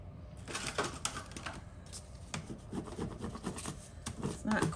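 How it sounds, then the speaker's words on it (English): Vinyl decal being peeled by hand from a resin serving board, giving a continuous scratchy rubbing and rasping with brief sharper tearing bursts, close and moderately loud, with no voices. "So let me peel this decal."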